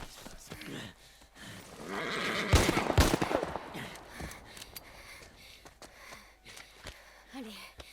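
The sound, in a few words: horse neighing in video game The Last of Us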